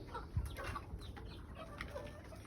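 Chickens cluck softly nearby in short, scattered calls over a faint, quiet background.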